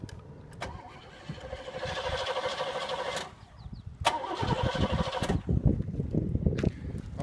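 A dusty 1985 Oldsmobile Eighty Eight Royale Brougham engine cranks in two separate attempts, each with a whirring starter that breaks into a rough, uneven catch and near, fairly loud running.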